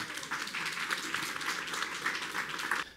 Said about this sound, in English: Famed actor Danny Glover gets a standing applause at Tuesday's Jackson City Council meeting